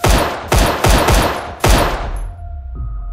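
Five sharp gunshots ring out in an uneven burst: four close together, then a short pause before the fifth, each loud and close with a short decaying tail, followed by quieter background tones.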